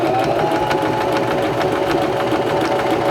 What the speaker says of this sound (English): now we can continue sewing, and this will sew the right side of our buttonhole.